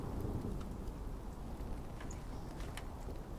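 A thunderstorm with steady heavy rain in The Pillars of the Earth game, a dense continuous wash of rainfall with low rumbling underneath, heard alone without talk.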